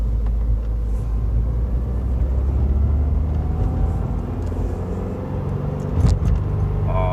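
A 2017 Subaru WRX on a stage 1 Cobb tune with a drop-in filter, pulling in second gear around 3,000 RPM: a steady, low in-cabin engine drone with road rumble and a brief knock near the end.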